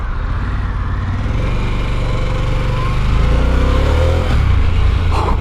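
Harley-Davidson Pan America motorcycle engine while riding, a loud, continuous low rumble with a steady throb that swells slightly as speed builds, heard close up with wind noise and no talking.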